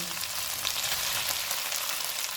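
Bell peppers frying with chicken in oil in a pan, a steady dense sizzle with crackling pops running throughout at close range, no voices.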